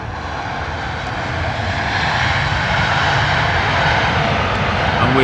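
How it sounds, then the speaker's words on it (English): An Aer Lingus Airbus A320neo arriving from Cork lands in wet, windy weather, its jet engines a loud, steady broadband roar that swells gradually as it nears. "A320 Aer Lingus coming in from Cork, Ireland."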